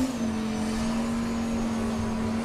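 Cars in a stick-shift grudge drag race at race week '21, a CTSV against PFI Speed, heard as a loud, steady engine drone that holds nearly level throughout, with no voices.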